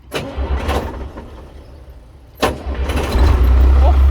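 An old, first-generation car engine cranks and sputters, then catches and settles into a loud, low rumbling idle; a few short bursts of noise come before it starts.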